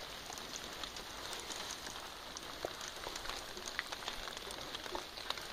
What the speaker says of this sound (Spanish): Oigan los rayos, para que vean